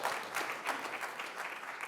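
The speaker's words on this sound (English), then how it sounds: "give them a round of applause" Quiet applause from a panel audience, a soft continuous patter of clapping heard faintly and without voices.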